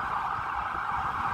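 Emergency vehicle siren on a Baltimore city street, a steady, moderately loud wail held without pause over low traffic rumble.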